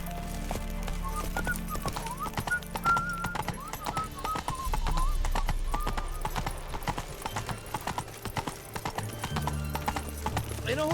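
Roach, the horse in The Witcher 3, gallops with steady rhythmic hoofbeats over game music, with an occasional whinny.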